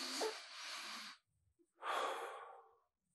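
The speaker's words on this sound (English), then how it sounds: "when was the last time you took a moment just to breathe?" A person takes two slow, audible breaths close to the mic, a long airy inhale and then an exhale, separated by a short pause.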